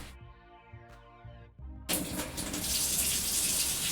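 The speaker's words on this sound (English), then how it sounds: "I'm going to get some water running" A kitchen tap is turned on and water gushes into a sink in a steady, close rush that begins partway through, after a few brief tonal sounds.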